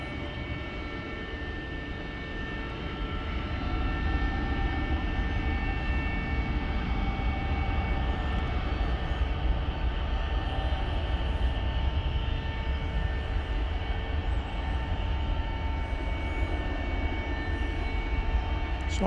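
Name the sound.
jet airliner passing at DFW Airport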